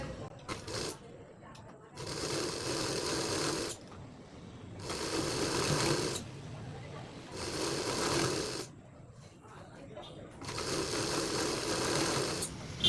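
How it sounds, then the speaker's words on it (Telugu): Sewing machine stitching cloth in four steady whirring bursts of about two seconds each, separated by short quiet pauses, close and fairly soft. "సేమ్ దీన్ని కూడా ఇందాకట్లాగానే కుట్టండి."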